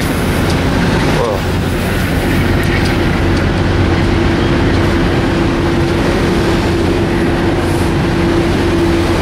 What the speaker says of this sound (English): Train we saw this morning.